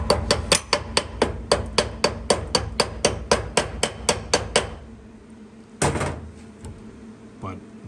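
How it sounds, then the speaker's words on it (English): A small chipping hammer knocks slag off plasma-cut 3/8 steel plate in a rapid, even run of about twenty sharp metallic taps. After a pause come one louder clank and a faint final knock. "I'll just take a small chipping hammer and"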